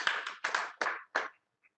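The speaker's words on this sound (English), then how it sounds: "Big round of applause for all the dignitaries." Audience at an accounting standards seminar claps in four short, loud bursts of applause, each dying away quickly, with a faint tap at the end and no talk.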